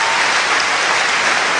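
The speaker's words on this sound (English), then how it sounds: "I would like to give him a big round of applause" Dense, steady applause from a large tennis crowd, a continuous wash of clapping with no voices over it.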